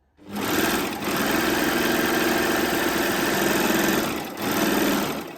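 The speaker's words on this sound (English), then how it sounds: "Just want to show you how beautifully it sews." A Babylock Acclaim overlocker stitching a double layer of fabric with white thread, a loud, fast, steady motor whir that briefly slows and picks up again in two short dips.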